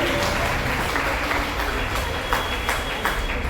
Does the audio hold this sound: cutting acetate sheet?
no